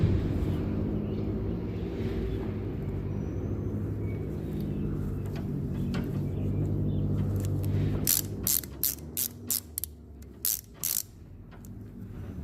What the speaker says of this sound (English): This one's kind of nice because it ratchets